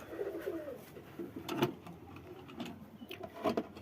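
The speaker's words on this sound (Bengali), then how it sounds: "এই যে সব কবুতর বসে আছে" Several pigeons coo in a pigeon house, soft throaty calls rising and falling close by with a few louder bursts and faint rustling between them.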